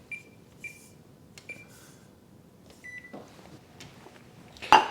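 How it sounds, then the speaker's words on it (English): An oven's control panel gives several short, high beeps spaced about a second apart as it is set to preheat to 350°F, followed by a soft click and a louder clunk at the end. "First thing I need to do is preheat the oven to 350 degrees Fahrenheit or 180 degrees Celsius."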